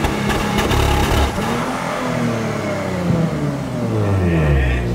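A Porsche Panamera with a sport exhaust at launch, the engine revving loudly with a sharp initial burst and then a rising, sweeping roar as it pulls away, close and dominant.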